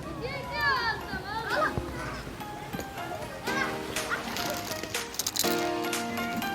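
Children's voices ring out at play in a waterfall park in Bursa, Türkiye, with busy, overlapping shouts and chatter, plus squeals and bursts of activity throughout, fairly close and lively.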